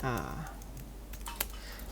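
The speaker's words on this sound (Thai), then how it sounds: "พิมพ์คาว่า constant นะครับ" Code being typed on a computer keyboard: a few soft, quiet key clicks follow a moment of speech, close and faint.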